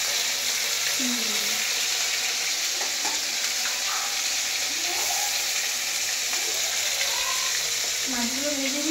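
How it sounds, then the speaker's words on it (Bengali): Phasa fish frying in hot oil, a steady broadband sizzle filling the whole stretch, with faint background voices and scattered kitchen clatter beneath. "মাছগুলো ভেজে দিচ্ছি"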